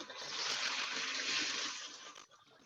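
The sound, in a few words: dry pasta dropped into a pot of water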